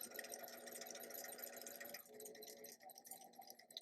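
A sewing machine stitches a French seam along a 3/8 inch guide, a quiet, continuous rattling hum that thins out toward the end.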